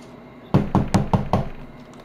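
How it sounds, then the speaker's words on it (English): Five evenly spaced loud knocks on a front door, close and alone in a quiet room. "Go knock on John Pork's door, please"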